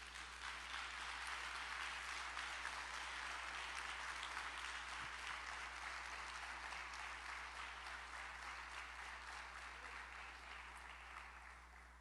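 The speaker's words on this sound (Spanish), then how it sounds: "Denle un aplauso al Señor." Church congregation applauding in one broad, steady wash of clapping that holds for about twelve seconds and eases off slightly toward the end, with no talk over it.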